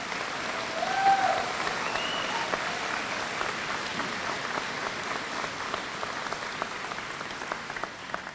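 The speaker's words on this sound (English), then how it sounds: "a round of applause for those particular graduates" A large crowd applauds graduates of Indigenous studies degrees at a university convocation in Peterborough, a steady, even wash of clapping throughout, somewhat distant and sustained.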